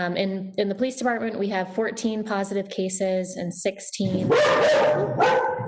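A dog barks loudly and repeatedly nearby during a city council work session, sharp yelping barks breaking through at the end after a stretch of a person talking.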